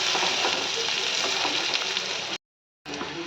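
Chopped onions fry in hot oil in a pan, a loud, steady close-up sizzle with faint stirring, interrupted by a short silent gap.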